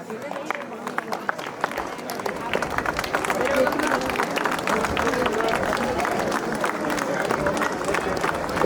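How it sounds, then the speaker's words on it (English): An audience applauding at the inauguration of synthetic tennis courts at a college in Nainital, with a dense steady clapping crowd swelling after a few seconds and continuing throughout, with some voices in the background. "a round of applause for our dignitaries."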